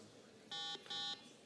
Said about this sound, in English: Okay, buzzer check.